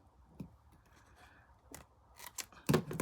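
Scissors snipping through thin scrapbook album paper, a few quiet, sharp cuts spaced apart and growing a little louder toward the end, heard close up with no talking.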